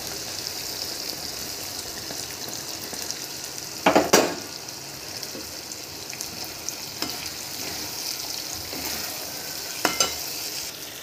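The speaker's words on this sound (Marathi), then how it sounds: "आणि आपण ह्या तळलेल्या सर्व आपल्या भाज्या टाकायच्या" Mixed vegetables, fried earlier, tipped into a pan of sizzling masala for a paneer mixed-veg dish, giving a steady broadband frying hiss with a sharp louder burst as they land and a few smaller crackles later.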